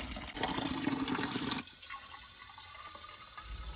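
Water pours loudly from an outdoor fountain into a container for about a second and a half, then cuts off, leaving quiet outdoor ambience.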